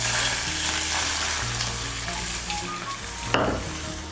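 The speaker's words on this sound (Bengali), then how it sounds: "এর মধ্যে আমি 1 কাপ দুধ ঢেলে দিচ্ছি।" A cup of milk poured into a pan of hot ghee for semolina gulab jamun, a loud continuous sizzle and bubbling that flares briefly near the end, with no talk.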